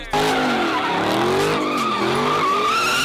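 A Ford Mustang's tires squeal and skid loudly and continuously as the car spins out, a sustained wavering screech close by.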